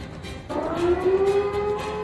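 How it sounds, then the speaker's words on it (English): A Silent Hill style air-raid siren starts up with a sudden onset and holds a rising, sustained wail, loud and alone apart from faint background noise. "And there goes the Silent Hill siren again."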